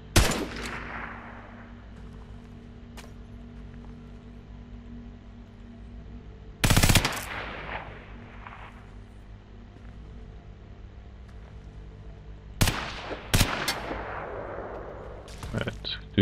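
Slow-motion gunfire in a CryEngine game, with three loud, drawn-out bursts spaced several seconds apart over a low steady hum, each followed by a fading tail.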